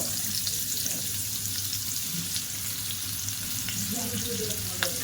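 Two medium chopped onions fry in two spoons of melted butter with two bay leaves, a steady close sizzle with occasional pops and stirring clicks.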